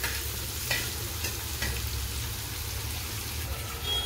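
Ground masala paste fries in hot oil for a spicy potato thecha with chillies, a steady soft sizzle and crackle that fills the whole stretch, with occasional faint stirring clicks and no voices.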